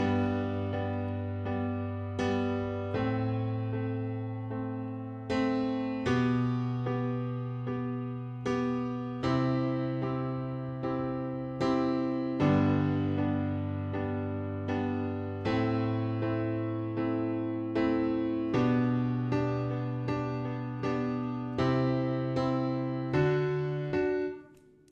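Solo piano plays the full chorus of a song, with steady repeated chords under a melody, clear and close at a moderate level without any talking.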